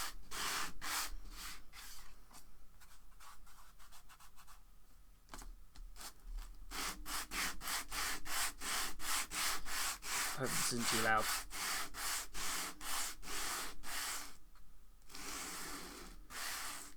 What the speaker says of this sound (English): Sanding the bases.